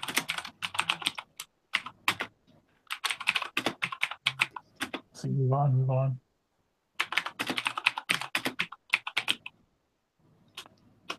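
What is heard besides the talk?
typing on mechanical keyboards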